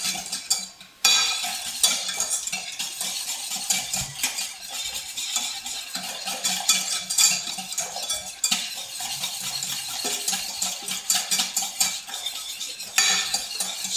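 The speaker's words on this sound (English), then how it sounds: "you've got to keep whisking continuously" A whisk beats custard thickened with cornflour and egg yolks in a pan, fast continuous metallic scraping and clinking in an uneven rhythm, close and clear, with no voices.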